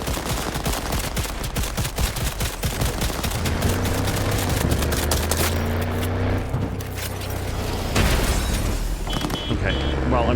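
Rapid gunfire bursts from an in-game weapon while driving a car in Cyberpunk 2077, loud and dense over a steady engine rumble, with game explosions and booms mixed in throughout.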